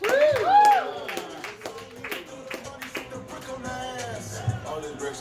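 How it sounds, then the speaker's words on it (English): A comedy club crowd in Philadelphia claps for a comedian, with dense, steady applause running throughout, mixed with whoops and cheers and some voices over it. "Let me get some hands clapping, feet stomping."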